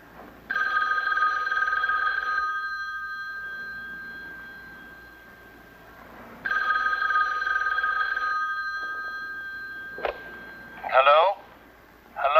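An old-style telephone bell rings in two long bursts a few seconds apart, loud and close indoors, followed by a click as the receiver is lifted and a brief voice.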